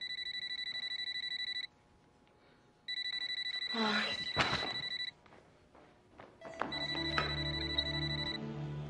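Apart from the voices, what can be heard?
telephone ringing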